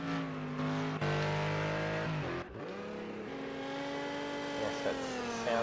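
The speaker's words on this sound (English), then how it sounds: "Yes, that sounds like the Skyline." A synthetic Nissan Skyline race car engine in Project Cars at Watkins Glen drones and revs at a sustained high pitch, briefly dropping and climbing again, loud and continuous without talk.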